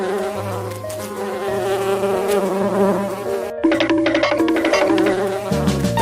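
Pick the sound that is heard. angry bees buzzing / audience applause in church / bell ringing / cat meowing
angry bees buzzing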